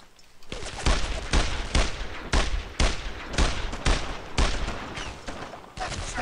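MG42 machine gun fire in Brothers In Arms: Road to Hill 30. Loud, close bursts repeat in a steady rhythm, with about seven heavy volleys separated by brief pauses.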